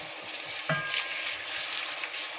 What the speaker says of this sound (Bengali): এগুলো হচ্ছে আমি ভালোভাবে এখন নেড়ে চেড়ে কষিয়ে নেব